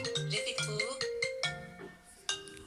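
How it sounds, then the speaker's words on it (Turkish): A phone rings with a bright, melodic electronic ringtone, a repeating musical tone pattern played close and clear, with no talking. "Telefon çalıyor."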